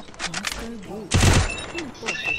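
Gunfire in a mobile shooter game, heard as a short loud burst of shots in the middle of the clip, with broadband noise around it, while someone talks excitedly over the action.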